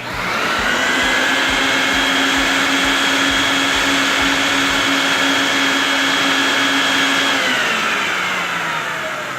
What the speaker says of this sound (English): vacuum all the Dead Sea minerals through the rug